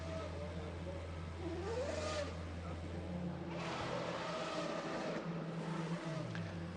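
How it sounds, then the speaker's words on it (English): Formula Renault single-seater race cars roll to the starting grid at the Catalunya circuit, their engines droning and revving steadily at a distance beneath continuous commentary. "As the cars come to the grid here in Catalunya"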